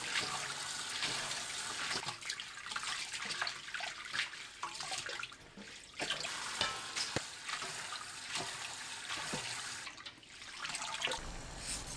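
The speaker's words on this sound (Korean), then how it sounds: "톳을 깨끗한 물에 한두 번 씻어주세요." Water splashes and trickles steadily as hijiki seaweed is swished and rinsed in a basin, with running-water noise and small clinks throughout.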